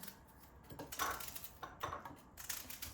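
Quick, irregular knife chops on a board, crisp clicks and taps in uneven bursts, close by with no talking.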